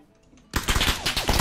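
A rapid burst of gunfire in the shooter game PUBG breaks in after near silence, several close, loud reports overlapping in quick succession.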